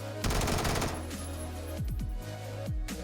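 A Vector SMG fires in PUBG, a fast, loud full-auto burst at the start followed by a few shorter bursts of rapid shots, with no talking.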